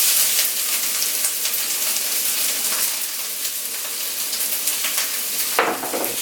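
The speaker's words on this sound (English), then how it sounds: "the olive oil is heated up, nice and hot, and I'm going to throw in my onion and shallot and garlic" Onion, shallot and garlic hit hot olive oil for an Italian spaghetti sauce, crackling in a loud, continuous sizzle with scattered pops and a sharper scrape near the end.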